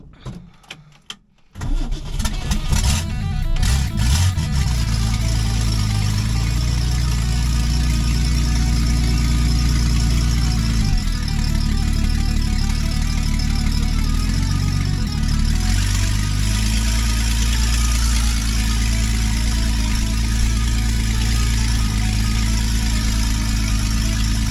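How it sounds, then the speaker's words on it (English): A 1966 Ford Mustang V8 with no exhaust manifold cranks and catches after a short starter whir, then settles into a loud, raw, steady idle with a rough, open bark that carries on unbroken. "we're going to probably take it on its last journey without an exhaust manifold"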